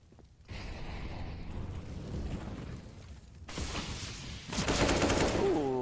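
Rapid gunfire in Counter-Strike on the Mirage map during a competitive match, a dense rattling fusillade that grows busier and louder toward the end.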